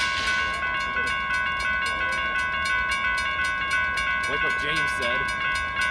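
A Norfolk Southern train passes a crossing with steady rail rumble under a ringing crossing bell with its sustained tones, close and continuous, while a person speaks briefly near the end.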